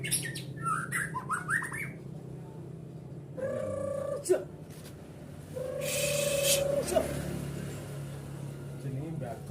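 A white-rumped shama, or murai batu, gives quick bursts of high chirps and trills, then longer clear whistled notes, moderately close over a noisy background hum.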